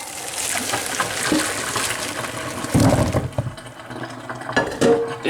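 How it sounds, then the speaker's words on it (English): Boiled potatoes poured into a strainer to drain: sloshing water pours and splashes, then the metal clanks and knocks a few times. Fairly close and loud, with no voices. "First you gotta drain them, you gotta strain them out with the drainer."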